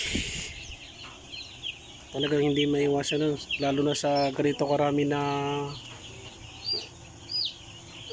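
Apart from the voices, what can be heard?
broiler chicks chirping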